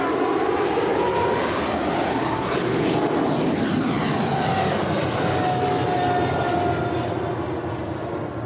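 An EVA Air Cargo jet bound for Taipei rolling for takeoff on runway 25 left at LAX, a loud sustained engine roar that swells and holds with a rising whine, heard from nearby.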